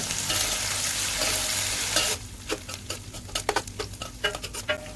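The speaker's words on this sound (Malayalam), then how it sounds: "ഇതിൻ്റെ അകത്തേക്ക് നമുക്ക് കുറച്ച് നെയ്യ് ഒഴിച്ചു കൊടുക്കാം കേട്ടോ എടുത്ത് വെച്ചിരിക്കുന്ന കാഷ്നട്ട് കൊടുക്കാം ചെറുതായിട്ട് ചൂടാക്കുന്നുണ്ട്" Cashew nuts fry in ghee for ada pradhaman, starting as a dense, loud sizzle that drops halfway into crisp crackles and stirring scrapes, close up with no voices.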